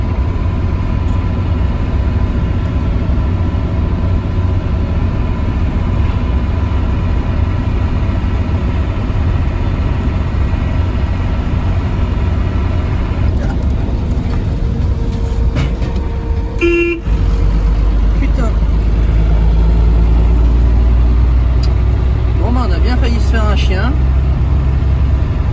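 A camper van cruising along a road, its steady engine and road rumble filling the whole stretch, with a brief car horn toot partway through and a heavier low drone in the later part.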